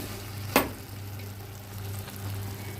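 Meat stirred and sautéed in ghee in a pot, giving a steady low sizzle with one sharp clatter of the spoon early on.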